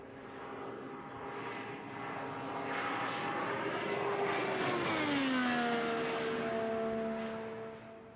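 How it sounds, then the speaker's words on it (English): IndyCar race car engines scream past on the Indianapolis Motor Speedway during an open test, a loud sustained roar with pitch sweeping down as cars go by, continuous and near. "Just getting back to hearing those engines again. Yeah. That sound as they go through."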